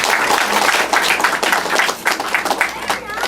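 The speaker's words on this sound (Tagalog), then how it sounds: "Palakpak po natin." Congregation at a church service claps together in dense, steady applause, with a voice speaking over the clapping throughout.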